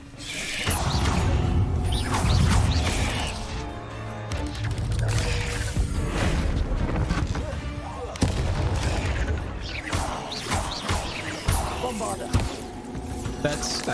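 Magical Bombarda blast explosions in the Hogwarts Legacy video game, a dense, loud run of booming impacts and crashes over mechanical clatter, with a voice talking over parts of it.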